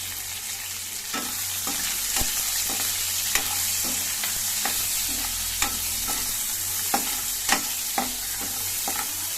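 Sliced onions and fenugreek leaves frying in a pan, a continuous close sizzle broken by regular scraping clicks of a spoon stirring them, with no voices.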